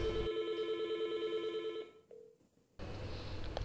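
An IP phone on an office PBX rings on an internal extension-to-extension call, a loud steady electronic ring close by that breaks off partway, followed by a brief tone and then a burst of room noise.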